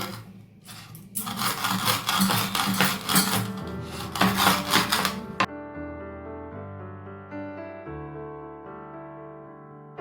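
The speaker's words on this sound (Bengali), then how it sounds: "এই দেখো, জিরেটাকে গুঁড়িয়ে নিলাম।" Roasted whole cumin seeds are ground with several seconds of rough, rasping grinding strokes, which stop abruptly and give way to soft background music.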